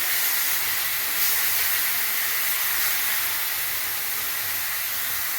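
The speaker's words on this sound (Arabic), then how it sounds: "هقلبهم كده يتشوحوا مع الصلصه الجديده" A leftover stuffing mixture sautéing with tomato sauce in a pan for mahshi, giving a loud, steady hiss that carries on unbroken throughout.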